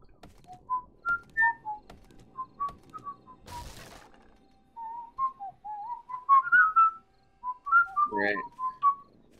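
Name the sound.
Someone whistling Hi-Ho over Discord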